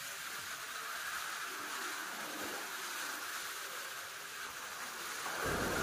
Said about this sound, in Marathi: मुसळधार पाऊस सुरू झालेला आहे